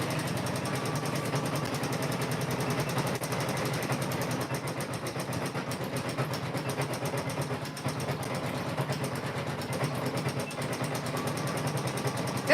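A Janome M17 embroidery machine stitches a wing design in the hoop for a quilt block, a fast, steady mechanical needle hum and rattle running continuously and evenly at close range.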